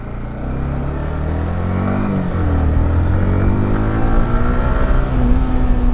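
A modified motorcycle engine revs up loudly and close by, its pitch climbing and holding in a steady rising drone with no talk over it.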